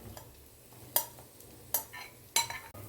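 Grated fresh coconut frying in ghee for coconut laddu is stirred, giving three sharp scraping clinks of a spoon against the pan over a low, faint sizzle, with no talking.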